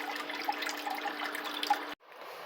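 Water poured out of a gold sluice snuffer bottle during micro gold panning cleanup, a faint steady trickling gurgle lasting about two seconds before stopping abruptly.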